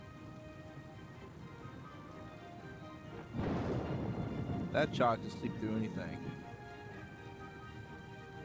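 Rain and thunder from a video game cutscene: a steady wash of rain throughout, swelling into a louder rumbling burst midway, with a voice speaking briefly over the storm.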